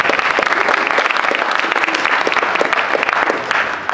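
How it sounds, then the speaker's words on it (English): Loud, close audience applause for a performer at a school show finale, dense steady clapping that fills the whole stretch and eases slightly at the end. "Big round of applause there for Rocky."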